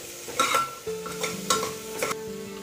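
A spoon stirs pepper powder, turmeric and country chicken in a frying pan for a village-style soup, giving four rhythmic scraping strokes over a faint sizzle.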